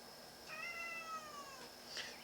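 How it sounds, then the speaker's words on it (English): A cat meows once, a drawn-out call that bends downward in pitch, close and fairly clear over a quiet indoor background, followed by a faint shorter sound near the end, with no talking. "Streaming Cat, I know they've abandoned you. I'll feed you in a minute."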